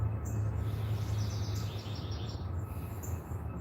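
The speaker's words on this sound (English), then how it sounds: "Listen to the birds." Birds chirp outdoors in a repeated run of high, quick calls over a steady low rumble of traffic and distant city noise, with no voices present.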